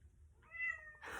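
A house cat gives a single clear meow nearby, rising and falling, followed by a short breathy trailing sound, with no talking over it.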